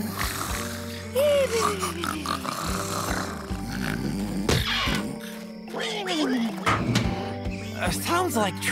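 A sleepwalking cartoon pig in a pig pen, heard as drawn-out snorting snores and grunts with sliding pitch, close and repeated, under bursts of animated character speech and music.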